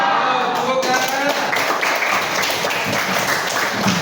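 Classroom listeners clap in a short burst of uneven applause during a school lesson session, mixed with voices talking over the clapping throughout.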